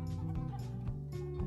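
Cartoonish chickens in the Egg Inc mobile game cluck quietly in a few short, repeated calls, soft and close with no talking.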